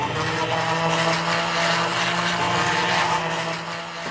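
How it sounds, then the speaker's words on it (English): A small hand blender whirs steadily, close and loud, as it purees strawberry vinaigrette, a continuous motor drone with no pauses. "All right, I got me a little hand blender."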